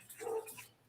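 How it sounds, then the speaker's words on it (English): A dog gives a single short, muffled bark from a video playing in the background, thin and fairly faint, with no talking over it. "That is a dog in that video."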